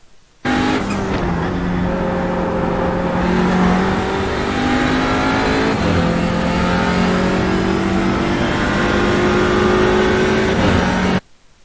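Audi RS3 LMS TCR race car driven around Spa in iRacing, engine roaring loud and steady as revs climb and drop through gear shifts, no talking over it.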